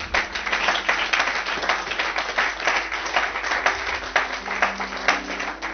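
A church congregation applauds together, a dense run of clapping that rises and falls slightly, close and steady with no talk over it.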